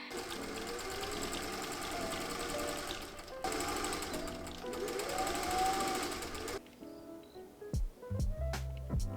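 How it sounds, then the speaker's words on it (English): Sewing machine stay stitching the sleeve head of a vintage-pattern blouse, a close, steady mechanical whir that runs continuously, then stops and gives way to a few handling knocks. "the first thing you'll need to do is stay stitch the sleeve head."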